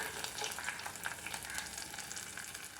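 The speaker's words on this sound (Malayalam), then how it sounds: "താളിച്ച് നമുക്ക് കറിയിലേക്ക് ഒഴിച്ചു കൊടുക്കാം" Hot tempering is poured into beetroot kichadi, setting off a continuous crackling sizzle with quick pops. The sound is fairly faint and close, with no talking.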